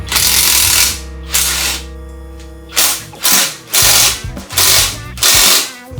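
Ratchet wrench clicking in repeated bursts as it works rusted downpipe mounting bolts loose under a Civic Type R, loud and close, with a steadier mechanical whir early on and several short rapid ratcheting strokes later.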